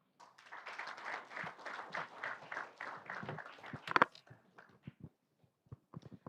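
An audience at a University of Rwanda School of Law alumni chapter launch gives a round of applause that swells in rhythmic bursts, then thins to a few scattered, fading claps.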